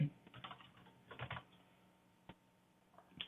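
Someone types on a computer keyboard while entering a chart title in a graphing program, giving quiet bursts of key clicks in clusters with pauses between them and a faint room hum underneath.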